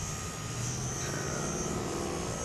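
A Parkzone Typhoon 2 3D radio-controlled airplane drones steadily overhead at a moderate distance, its electric motor and propeller giving a continuous buzzing whine throughout.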